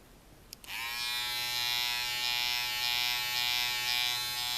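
Electric hair clippers switch on with a click and then drone in a loud, continuous buzz close by, shaving hair during a combover haircut.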